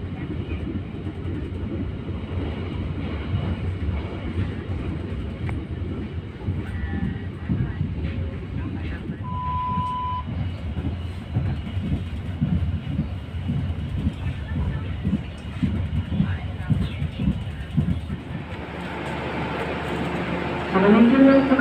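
A Logawa economy-class passenger train riding on rails, heard from inside the carriage as a continuous low rumble with faint rhythmic clatter, with a brief tonal beep partway through and rising noise near the end.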